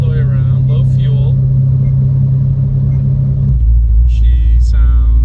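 Corvette C6 Z06 idling rough with a deep, lumpy rumble that shifts lower partway through, while a person talks over the engine near the start and again at the end.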